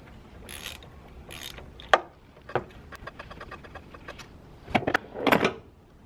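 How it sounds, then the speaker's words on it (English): Ratchet with a 20mm socket working on a power steering high pressure hose, giving quick runs of clicking pawl ticks between a few louder knocks and clanks, close and moderately quiet, with no talking. "The next step is to remove the high pressure hose using a 20mm socket."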